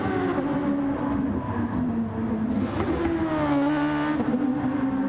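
A Super Formula race car in a racing video game, a 660 kg, 639 bhp Honda or Toyota engined single-seater, its engine droning and shifting pitch on the downshift with crackling pops, loud and steady throughout.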